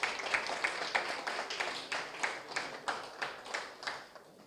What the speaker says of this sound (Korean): 우리 또 다시 한번 박수를 부탁드립니다